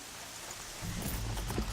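Rain in the Horizon Zero Dawn video game begins as a soft hiss and swells into a steadier, fuller patter partway through, moderately quiet with no voices.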